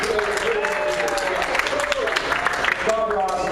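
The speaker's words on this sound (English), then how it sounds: "Who here by a round of applause knows who this guy" An audience breaks into a round of applause at a motivational speaking event, a dense wash of clapping heard under a voice that keeps talking over it.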